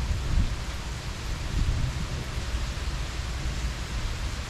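Heavy typhoon rain pours steadily in Jiaoxi, Yilan, Taiwan, a dense continuous roar with low gusty rumbles swelling and easing, loud and close with no voices.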